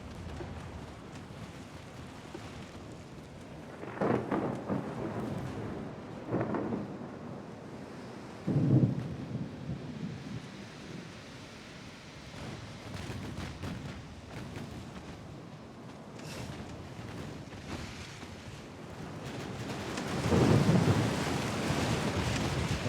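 Rain and rolling thunder from a stormy naval battle in the game Ultimate Admiral: Dreadnoughts, a steady wash of rain with several deep thunder rumbles swelling at intervals, the loudest near the end.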